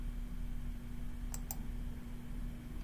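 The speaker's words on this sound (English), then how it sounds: "I'm going to right click here." Two quick, close mouse clicks on a computer, a sharp double tap in the middle of a quiet stretch over a low steady hum, with no voice.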